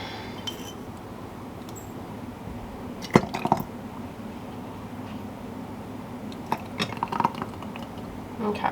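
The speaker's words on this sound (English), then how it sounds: "And then we will fill the jars." Food is spooned into home canning jars, with soft wet squishes, small glassy taps and clinks scattered over a low background hum. There is no speech.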